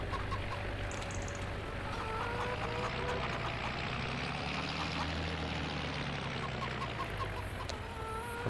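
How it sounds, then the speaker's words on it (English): Chickens cluck repeatedly in a farming homestead survival video game, soft and steady over a constant low hum of background game ambience, with no talk. "I do need to give these chickens more feed"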